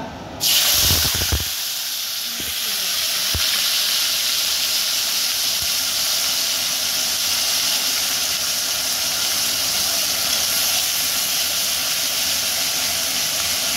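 Tomato, onion, green chili, ginger and garlic paste drops into hot oil in a pan over a high gas flame. A loud initial burst settles into a steady, dense sizzle and hiss that continues alone throughout.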